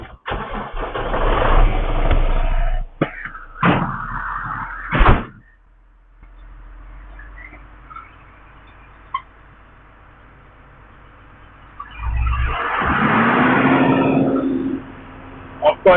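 Fire truck engine starting, revving and driving, loud bursts of mid-range engine noise at the start, a quieter idling stretch, then a strong surge of engine roar as it pulls away.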